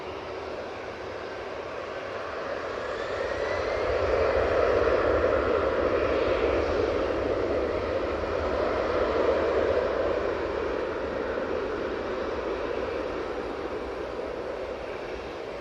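An EasyJet airliner taxis at Manchester Airport, its engines a steady broad roar that swells gently and fades, heard from a distance without talk.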